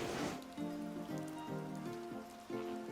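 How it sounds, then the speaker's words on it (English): Heavy rain pours outdoors, a dense, continuous hiss of drops on surfaces heard quietly in the background, with a low repeating tonal hum running underneath. "It's raining really hard."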